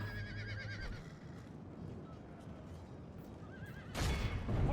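Horses neigh and whinny repeatedly amid a dense, noisy battle din in Medieval 2 Total War, with hoofbeats in the chaotic mix and a louder surge near the end.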